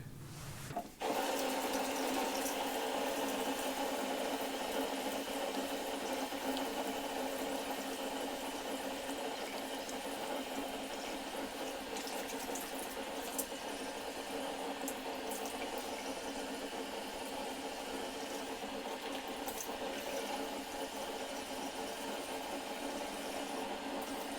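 Steady running water at a bathroom sink while a face is rinsed, a continuous close, loud stream with faint splashing, no voices.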